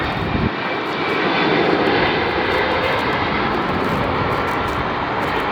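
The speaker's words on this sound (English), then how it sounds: "Listen to the distinct" A jet airliner comes in to land at LAX, its engine roar loud, close and continuous, building slightly and then holding steady without any voices.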